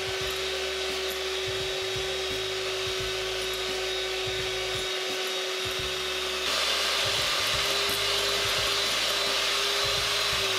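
A motorized mixer whisks Italian meringue while hot liquid sugar syrup is poured in slowly, giving a continuous close whirring drone with a steady tone and rhythmic low pulsing, the pitch shifting slightly partway through.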